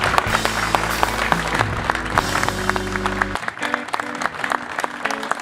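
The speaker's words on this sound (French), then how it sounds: "On peut les applaudir bien fort" Applause at a classic car rally event, crowd clapping that stays steady throughout, with sustained low tones, probably music, underneath that stop partway through.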